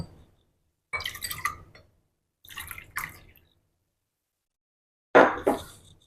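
Plain tap-temperature water poured into yogurt to make lassi, in three short splashing pours separated by silence, the last one loudest and closest.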